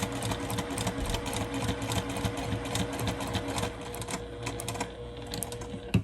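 A sewing machine runs in a fast, continuous mechanical chatter, stitching backward and forward on a Dresden quilt piece, close and steady with slight pauses near the end.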